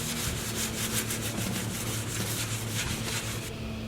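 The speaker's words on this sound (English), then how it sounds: "I need to wet sand these down and respray the red" A red painted tractor seat pan being wet sanded by hand, a steady rhythmic rubbing and scraping that repeats in quick back-and-forth strokes, close and fairly loud, with a low hum underneath and no talking.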